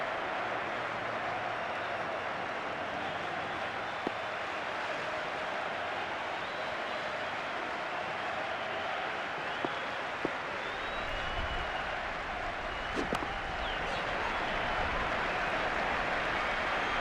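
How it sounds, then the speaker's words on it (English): Crowd applause and cheering in a PS2 cricket game, an ICC Champions Trophy 2004 West Indies versus Pakistan match, a steady distant stadium roar that holds evenly for the whole stretch. "The crowd really enjoyed that one."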